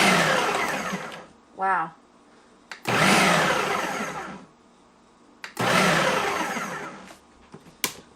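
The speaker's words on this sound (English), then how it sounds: "we're going to turn on the processor and hit chop" A 2020 Ninja Professional 9-cup food processor pulse-chopping onion, three loud whirring motor bursts of one to two seconds each separated by pauses, close by, with a person briefly exclaiming between them.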